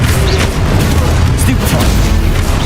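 Stupefy spell cast in Hogwarts Legacy, a dull magical boom inside a dense, continuous rumble of combat effects, loud and close, with a voice calling out over it.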